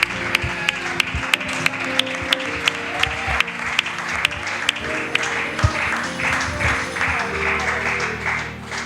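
A church congregation applauding, loud and dense, with steady rhythmic claps cutting through the crowd noise and a few voices mixed in, the sound easing slightly near the end.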